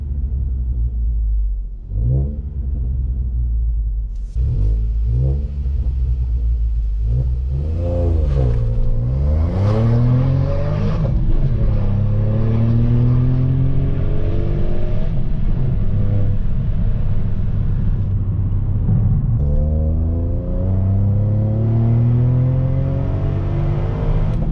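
A car drives along a scenic road, its engine rumbling steadily and revving up through several accelerations, the pitch climbing and falling between shifts, loud and close with no talking.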